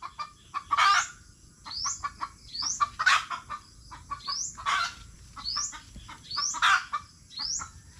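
Hens and chickens cluck in repeated bursts close by, with sharp higher calls breaking in every couple of seconds against a steady low background. No one speaks.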